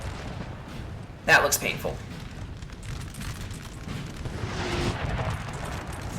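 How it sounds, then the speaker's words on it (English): Napoleonic cannon artillery in a large multiplayer battle in Napoleonic: Total War 3, one sharp booming blast followed by rolling distant rumble and scattered fire, with someone talking over it. "Ooh, look at that artillery, though. Look at that artillery."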